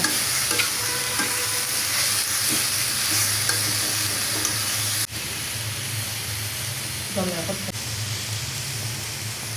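Data shak stalk greens with salt and turmeric stirred in a sizzling pan, a steady loud frying hiss with scraping spatula strokes throughout and a brief voice near the end.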